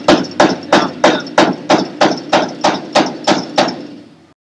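A hammer taps a dent out of Grumman aircraft wing metal, about thirteen evenly spaced sharp strikes, close and loud with a short ring after each, then silence.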